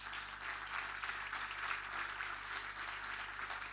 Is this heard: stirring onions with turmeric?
no